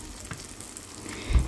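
Enoki mushroom egg pancakes sizzle faintly in frying oil in a pan, a soft, brief crackle of shallow frying.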